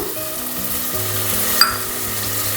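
Tomatoes and curd cooking in a pan, a steady loud sizzle and frying hiss with a brief clink of a spoon stirring the mixture partway through, no voices.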